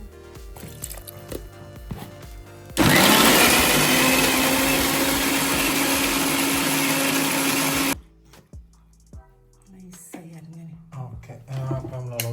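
A kitchen mixer grinder bursts into a loud, steady whir as it grinds masala spices with a little water for chicken curry, running about five seconds before stopping, with quiet kitchen clatter before and after.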